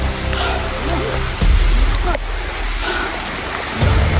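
Heavy rain pours down on a mountainside, a loud, rough roar of water that fills the scene from start to finish, with faint voices and movement mixed underneath.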